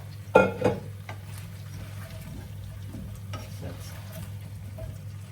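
Potatoes tumble into a hot pan with a brief loud splash and clatter, then settle into a steady, softer sizzle of frying.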